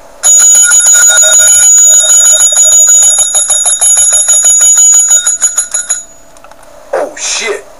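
Loud electric alarm bell rings continuously for about six seconds, a rapid metallic clanging that then cuts off, followed by brief excited voices.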